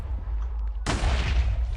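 Cannon fire in a Minecraft Race for Wool PvP match: a low rumble gives way to a sudden loud broadband blast that sustains as a rough, crackling roar to the end.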